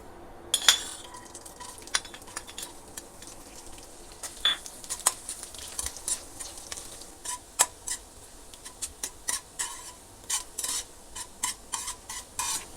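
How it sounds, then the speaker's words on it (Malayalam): Coconut pieces frying in a pan for aval vilayichathu, a soft continuous sizzle broken by frequent clinks and scrapes of a spoon stirring against the pan, close up with no voices. "ആദ്യം ഈ തേങ്ങാക്കൊത്തൊന്ന് വറുത്തെടുക്കാം."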